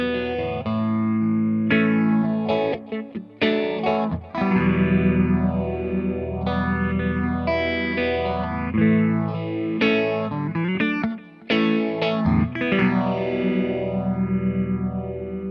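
Fender FSR Tribute Stratocaster electric guitar played through an Echoplex echo: sustained, distorted chords whose repeats swirl and overlap into a continuous, washy wall of sound.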